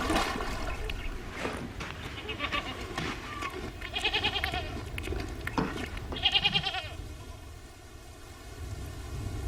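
Goats bleat repeatedly in a small herd at a desert watering well in the Aïr region, several calls overlapping at moderate distance over a steady background wash.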